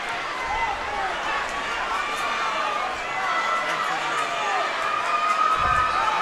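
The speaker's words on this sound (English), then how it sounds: "The crowd is energetic." A crowd roars and cheers steadily in a gym during a high school boys' district basketball game between Kearney and Northeast, loud and continuous with chatter and shouts mixed in.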